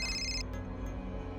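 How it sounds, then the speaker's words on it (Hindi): A phone ringtone sounds in a TV drama scene, a steady electronic melody that plays alone and fairly loud, cutting off partway through. "राजवीर का फोन"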